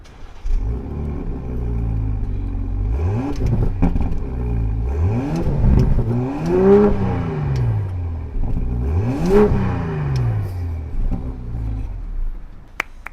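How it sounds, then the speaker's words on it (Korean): BMW M340i Pro LCI 2 engine revving repeatedly as the accelerator is pressed, several rising and falling surges of loud, close exhaust roar over a steady idle rumble. "가시니까 이제 엑셀 밟아볼게요"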